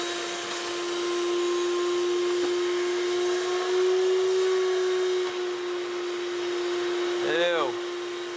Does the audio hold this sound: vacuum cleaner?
yes